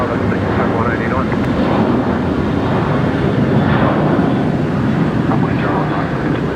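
A Velocity airliner departs Brisbane Airport at night bound for Canberra, its engines a steady, loud broadband roar blended with wind buffeting the microphone, with faint voices in the background.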